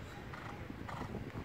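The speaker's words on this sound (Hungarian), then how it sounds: "Hú, de szépen megy ennek a lánynak ez a ló." A horse carrying a young female rider moves along at a steady gait, its hooves clip-clopping in an even rhythm at moderate distance, with faint creaks of tack and no talk over it.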